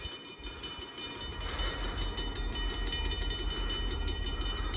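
The ELS 400 freight train rolls past a railroad crossing in Iron Mountain, a heavy steady rumble with rhythmic clatter of wheels over rail joints, close and sustained, with no talking.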